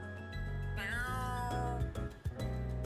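Kageyoshi, a cat in the game Trails through Daybreak, gives one drawn-out meow close up, rising and then bending down, set over steady game background music.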